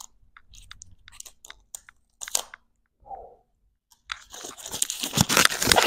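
Crunchy chewing and biting on a pizza Lunchable during a mukbang, close and loud, starting with scattered bites and growing into dense, continuous crunching, with a brief voice in the middle.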